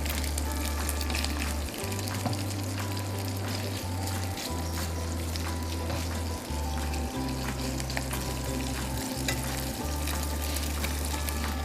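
A whole sardine browns in a pan of tomato sauce, giving a steady, close sizzle and bubbling frying sound throughout, with no voices.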